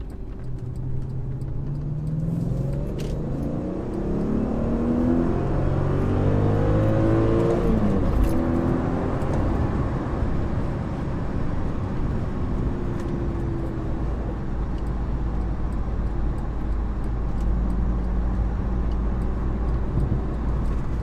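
A 2003 Audi S8 with a Super Sprint exhaust and a swapped 6-speed manual accelerates up an on-ramp, heard from inside the closed cabin as a loud, rising engine drone that climbs through gear changes and then settles into a steady cruise.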